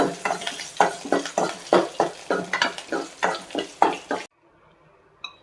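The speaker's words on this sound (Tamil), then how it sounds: "அந்த சின்ன வெங்காயத்தையும் போட்டிருக்கேன். இதை லேசாக ஒரு வதக்கிட்டு" Small shallots sauté in hot oil for a rasam tempering, a close sizzle with a steady run of rhythmic stirring scrapes across the pan for about four seconds before it stops.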